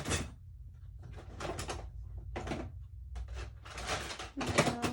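Craft-room drawers or cupboards being pulled open and pushed shut, a series of close, uneven wooden rattles and thuds with short pauses between them.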